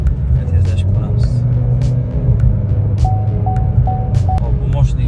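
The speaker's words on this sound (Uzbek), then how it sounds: "Tezlashib ko'ramiz." A car fitted with an anti-radar speed tracker, driving in Tashkent: a steady, close engine hum and low road rumble run throughout, with a short series of repeated electronic beeps partway through.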